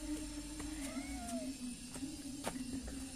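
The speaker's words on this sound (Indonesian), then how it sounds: "Kucing pintar." A feral panda-eyed cat lets out a couple of soft, drawn-out meows over a steady low background hum, with a few faint clicks scattered through.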